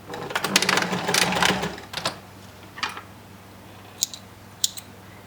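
A sewing machine stitches a French seam closed in a quick close burst of rapid mechanical rattling lasting about two seconds, followed by a few brief clicks and taps.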